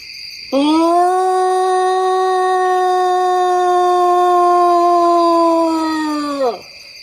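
A single long, sustained howl, close and clear, holding a steady pitch for about six seconds before dropping away at the end, over a quiet background with a faint insect-like hiss.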